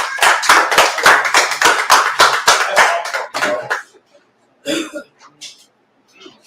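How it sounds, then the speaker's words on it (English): An audience claps together in a loud burst of applause for a few seconds that quickly fades, followed by a couple of scattered claps and faint voices. "Everybody clap it up for Tazayar."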